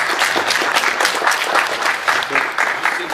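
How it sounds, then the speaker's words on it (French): Applause from an audience at a charity tournament event, steady close clapping filling the room without a break. "Je peux l'applaudir ?"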